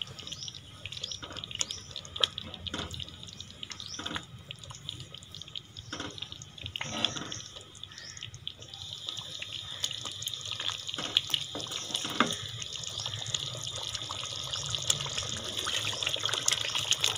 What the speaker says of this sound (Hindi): तो इसमें पानी ऐड कर दें।